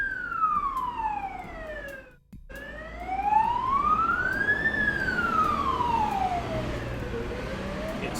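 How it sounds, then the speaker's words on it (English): Fire brigade siren wailing in the distance, a faint, slow rise-and-fall tone sweeping up and down with a brief dropout partway through, over a low background hum. "You can hear some sirens going off in the distance."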